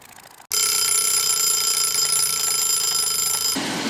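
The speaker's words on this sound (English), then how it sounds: "the timer went off" An air fryer's cooking timer alarm bursts on suddenly and rings loud and steady for about three seconds, a bright continuous electronic tone, then cuts off.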